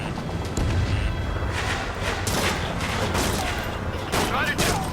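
Aircraft gunfire in the combat flight game Ace Combat 7, rapid dense bursts rattling over a continuous roar of engines and battle noise, with no clear pauses.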